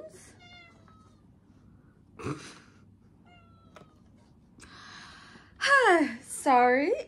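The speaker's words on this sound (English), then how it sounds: "the meowing may continue" A pet cat meows several times close to the microphone, with a couple of loud, drawn-out cries near the end, while someone talks quietly in a room.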